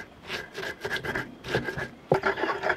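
Whole spices ground by hand into rendang paste for a traditional Indonesian dry beef curry, a stone pestle rubbing back and forth in a rhythmic rasping scrape, close and steady with repeated strokes and a sharper knock near the end.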